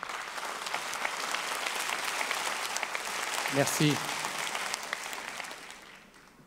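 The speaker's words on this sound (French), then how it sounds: "je vous demande d'applaudir comme il le mérite" Party congress crowd applauds a speaker, a broad sustained ovation of many hands filling the hall, with a brief spoken word from the stage midway before the clapping tapers off.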